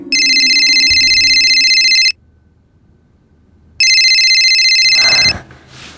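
A telephone rings loudly in two electronic bursts separated by a short silence, the second cut off by a brief rustle.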